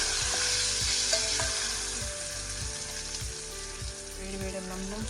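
Coconut chutney tempering with fresh curry leaves, turmeric and ground chutney being stirred in a pan, giving steady loud sizzling with repeated scraping strokes of the spoon throughout.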